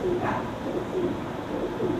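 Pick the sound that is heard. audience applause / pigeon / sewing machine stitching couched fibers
pigeon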